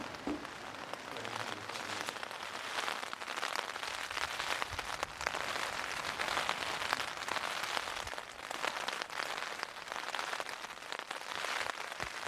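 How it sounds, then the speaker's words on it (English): Heavy rain drums hard and without a break on the roof of a parked van, a dense, loud hiss with scattered heavier drops throughout and no voices. "We're going to sit in here and just watch this rain, I think."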